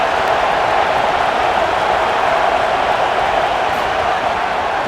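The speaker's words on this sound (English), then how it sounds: "Decibels rising as the crowd gets behind this defense on 3rd down." Stadium crowd in the college football game CFB27 roaring behind the defense on third down, a dense, constant wash of cheering at high volume with no clear lulls.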